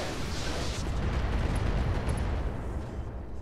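Mech weapons fire in the Roguetech video game, a dense, continuous barrage of booming, rumbling blasts with no clear gaps, loud and close throughout.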